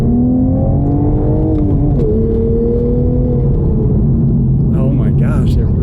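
A stock right-hand-drive Nissan 180sx with its stock exhaust revs from inside the cabin, a loud, steady engine drone that rises and dips in pitch while people talk over it.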